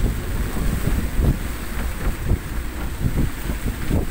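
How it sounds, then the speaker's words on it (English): Strong, steady wind buffets a boat at sea, a constant loud roar with gusty rumbling and microphone buffeting, waves and water noise mixed underneath, no talking. "the wind is constantly blowing from the same direction"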